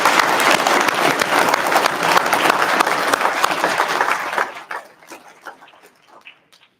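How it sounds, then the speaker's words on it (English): An audience at a fire department promotional ceremony gives newly promoted paramedics a round of applause, the dense clapping loud and sustained for several seconds before thinning out to a few scattered claps. "Let's give our newly promoted paramedics a round of applause"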